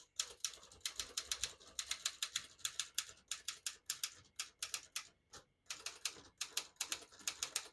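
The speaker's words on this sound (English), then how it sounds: "I'll type a sentence on the next line." Rapid, crisp keystrokes on a 1958 Smith-Corona Skyriter portable typewriter typing out a sentence, sharp clacks in uneven bursts with brief pauses, close and fairly quiet.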